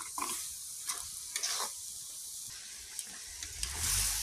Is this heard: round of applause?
no